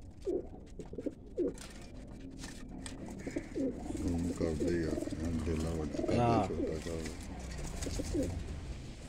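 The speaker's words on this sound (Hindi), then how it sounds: "ये गोल्डन कबूतर है।" Golden pigeons coo repeatedly in soft, rounded bursts close by, mixed with scattered chirps while someone talks over them.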